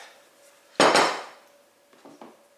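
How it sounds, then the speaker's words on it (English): A lid goes onto a pot of butternut squash soup with stock: one loud, ringing metallic clank, then two softer taps a moment later, close by in a quiet kitchen. "And then on goes the lid."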